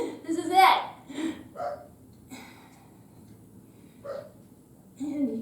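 A dog barks a few times from another room, muffled and intermittent, while a person speaks nearby.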